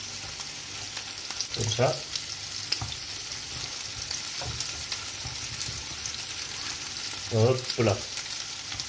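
Sole turbans and galettes frying in a hot pan, a continuous close sizzle broken by a few louder bursts as pieces are turned, with a voice briefly speaking over it.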